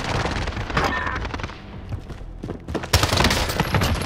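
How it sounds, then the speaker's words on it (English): Rapid bursts of battle royale video game gunfire crackle close and loud through most of the stretch, with a heavier volley near the end and game ambience underneath. "I'm taking fire."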